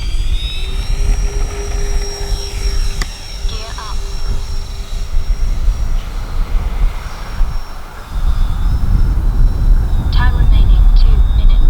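A radio-controlled OV-10 model airplane roars steadily down a runway in a close, loud pass, its engine drone rising toward the end, with wind noise and voices talking over it.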